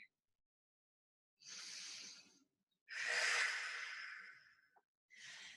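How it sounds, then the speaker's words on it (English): Slow, deep breaths drawn in and let out during a floor stretch with a strap, each one a soft airy rush, near and quiet, separated by short pauses with no talking. "One more deep breath here."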